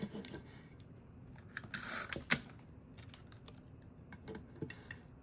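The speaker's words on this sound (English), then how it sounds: "Just taping it where the air might get in." Adhesive tape pressed and smoothed onto a full-wrap infusible ink tumbler: a quiet crinkling, tearing rush in the middle, with scattered soft ticks and taps around it and no talking.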